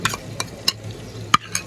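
Ginger garlic paste frying in a pan for a chicken masala, stirred with a spoon in a few distinct scraping strokes over a faint sizzle, close and with no talk.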